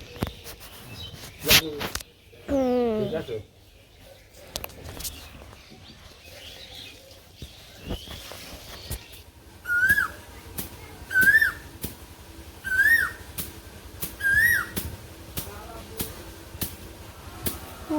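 Outdoors, an Asian koel repeats its rising two-note call about five times at a steady interval, moderately near, after a stretch of other bird chirps, whistles and quiet background sounds.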